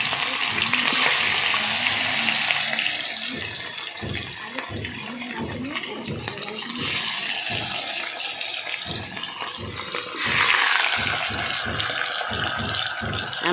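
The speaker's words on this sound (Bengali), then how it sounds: "এবার নদীর বাটা মাছগুলো একটা একটা করে ভাজা করে নিচ্ছি।" River bata fish fry one by one in hot oil in a wok, a loud steady sizzle with crackling surges as pieces go in, close by, with some faint talk underneath.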